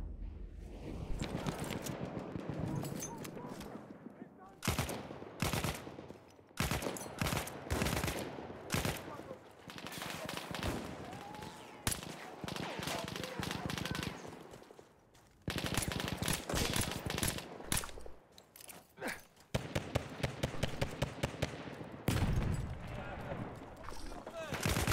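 Rapid machine-gun and rifle fire in Battlefield 1, dense crackling bursts stopping and starting throughout, with brief quiet gaps and someone talking over the shooting.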